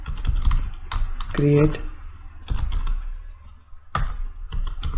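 Computer keyboard typing a statement into MySQL Workbench, steady close keystroke clicks in several bursts, with someone talking over parts of it.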